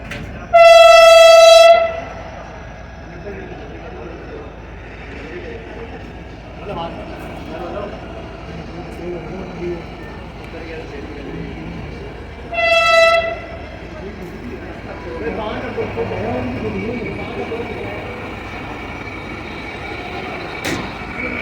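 A train passes through Jhampir railway station in Pakistan, sounding two loud, sustained horn blasts about eleven seconds apart over a steady rolling rumble, with voices in the background.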